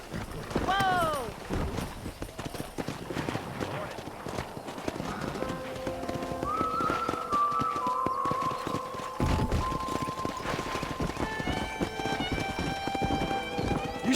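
Rapid hoofbeats of wild horses galloping in the video game Red Dead Redemption, with a whinny at the start and tonal music-like sounds layered over the running.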